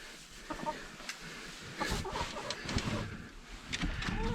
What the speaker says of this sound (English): there's our little bantam